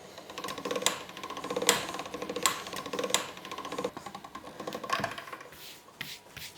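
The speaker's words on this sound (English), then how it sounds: "put it through the pasta machine on the widest setting one more time" Homemade ramen dough is fed through a pasta machine on its widest setting, giving a close, steady mechanical clatter and rolling churn with repeated sharp clicks, with no voices.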